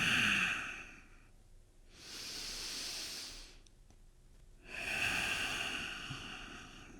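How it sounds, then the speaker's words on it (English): Deep yoga breaths during a home vinyasa flow workout: three long, close, breathy inhale-exhale rushes separated by short quiet gaps, heard alone. "Big, full, deep breaths."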